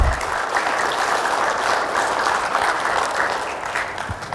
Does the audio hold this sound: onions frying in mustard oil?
no